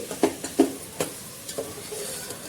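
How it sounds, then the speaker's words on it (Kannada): Ground masala for avarekalu (hyacinth bean) biryani is stirred and fried in a pan, with several close scraping spoon strokes over a soft, steady sizzle and no talking. "ಈ ಮಸಾಲೆನ ಹಾಕಿ ಚೆನ್ನಾಗಿ ಮಿಕ್ಸ್ ಮಾಡ್ಕೊಳ್ತಾ ಫ್ರೈ ಮಾಡ್ಕೊಳ್ಳಿ"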